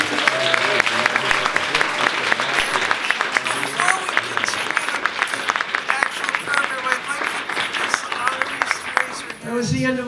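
An awards ceremony audience claps for previous honorees, loud dense applause from a large crowd filling the room for about nine seconds before tapering off abruptly at the end.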